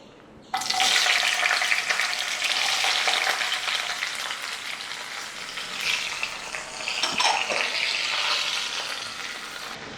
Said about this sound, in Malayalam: ഒന്ന് ഈ എണ്ണയിൽ തന്നെ വാട്ടിയെടുക്കാം